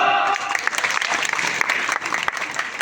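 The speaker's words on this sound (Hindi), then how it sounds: "ताली तो बजा दो।" A gathered crowd at a Ramayana storytelling session claps loudly in a dense, continuous burst of applause, with faint voices mixed in.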